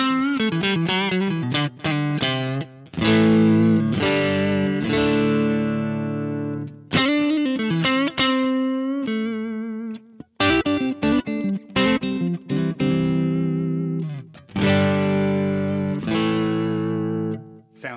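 Electric guitar played direct through a Synergy Syn2 tube preamp on the Morgan AC channel, strummed chords and picked single-note lines with short pauses between phrases, a bright, lightly driven tone heard alone and up close.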